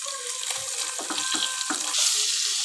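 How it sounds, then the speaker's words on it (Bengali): Koi fish frying in hot oil for a mustard-paste curry with potatoes, a steady broadband sizzle with a few soft stirring knocks, close and moderately loud, no talking. "তার জন্যে মাছগুলো প্রথমে ভেজে নিচ্ছি"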